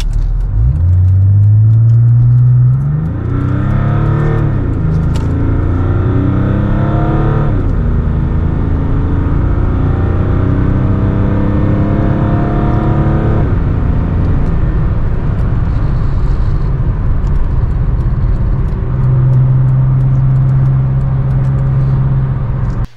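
Evonne, a turbodiesel car, accelerating onto a highway: a loud close engine rising through several gear shifts, then settling into a steady rumbling cruise.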